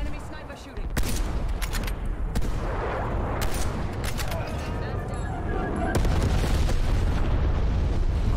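Sniper rifle shots ring out in a Call of Duty Black Ops Cold War Snipers Only Moshpit match: a few sharp cracks stand out over a steady wash of gunfire and explosions, loud and close, with a player talking throughout.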